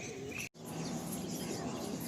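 Madrasi pigeons calling nearby, soft cooing and chirping notes over a steady background hum, with a brief dropout near the start.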